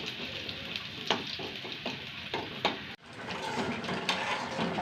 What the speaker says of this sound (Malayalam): കടുക് പൊട്ടിച്ച് ചെറിയ ഉള്ളി താളിച്ച് വാങ്ങിക്കണം